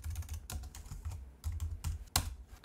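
Keys tapped on a computer keyboard while entering commands during a NixOS Linux installation, a run of close, crisp clicks in uneven bursts with brief pauses and a few sharper louder strokes, no voices.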